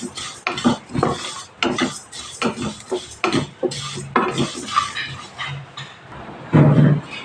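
A spoon scrapes and clatters against a pan again and again as rice is stirred and dry-fried for crunchy Bengali chal bhaja, with steady rhythmic strokes and a louder knock near the end.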